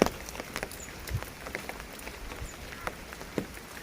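Rain falling outdoors, a steady hiss of patter on surfaces with scattered sharper drops and taps throughout, fairly quiet and continuous.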